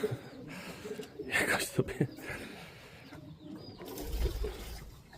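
A pigeon coos softly a few times amid rustling and background noise, fairly close.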